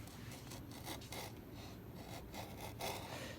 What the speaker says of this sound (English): Chisel, bevel side goes down as I carve.